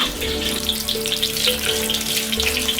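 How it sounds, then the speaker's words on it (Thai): Shrimp sizzle and crackle steadily as they fry in a pan for a salad, a close, continuous frying sound with no talking. "ระหว่างนี้ก็จะมาทอดกุ้งไปด้วยนะคะ เพื่อที่จะนำไปใส่สลัดค่ะ"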